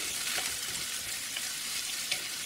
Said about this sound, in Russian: Начинаю обжаривать лук.